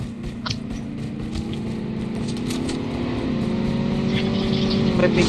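A vehicle engine drones steadily with a rising pitch and gets louder in a battle royale video game match, with players talking over it.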